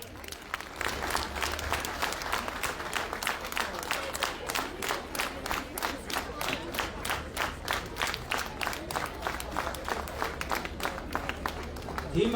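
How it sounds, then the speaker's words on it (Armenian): A large crowd at a campaign rally in Gyumri, Armenia, claps in loud rhythmic unison, the steady synchronized beats continuing without a break from start to finish. "Ծափահարություններով"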